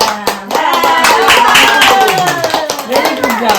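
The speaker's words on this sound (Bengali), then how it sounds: "হাততালি হাততালি হাততালি হাততালি" Hands clap together at a family birthday party at home, a quick burst of claps mixed with cheerful voices and sung or chanted lines, close and lively throughout.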